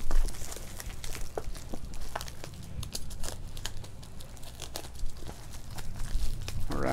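Seat cushion package being cut open and unwrapped, with close crinkling plastic, tearing and scattered crisp rustles continuing throughout at moderate level.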